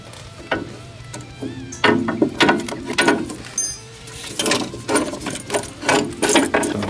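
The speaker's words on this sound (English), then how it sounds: "Now we are getting the second spring compressor in on the other side." A spring compressor being fitted onto a DeLorean DMC-12 KW coilover, with close metallic clanks, ratcheting clicks and knocks in uneven bursts, loud and up close.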